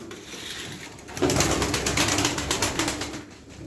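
Gittiler pigeons in a loft coo softly, a short run of low throaty calls with some rustling, faint and close.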